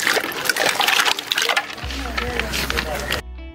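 Freshly gathered backwater clams are dropped into a pot of water for boiling, with splashing and wet clattering, then a low steady hum as the pot sits; no speech is heard.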